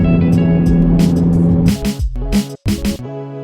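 A loud Subaru WRX STI heard from inside while driving: steady engine drone gives way to sharp, choppy bursts and gaps as the throttle is blipped and released, with crackling pops between.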